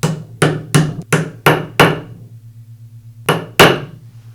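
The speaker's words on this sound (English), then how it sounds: "tap it in place with a hammer" Sharp metallic hammer taps on a socket seating a bearing onto a Makita grinder armature shaft, eight strikes close up, first in a quick steady series, then a pause before two final blows, with a faint ringing hum between.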